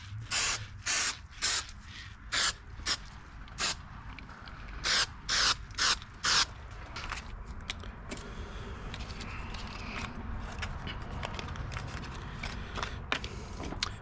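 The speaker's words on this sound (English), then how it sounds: "I'm gonna use just this spray polyacrylic." Spray can of polyacrylic clear coat misting over an antique-style wooden bass lure replica, several short hissing bursts in a row, then a quieter, more continuous spray with faint handling rubs.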